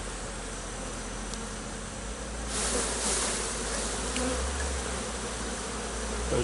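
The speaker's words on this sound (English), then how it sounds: "Those bees there." Honey bees at an open hive make a dense, continuous buzz, close and loud, with individual bees droning past over the steady swarm hum.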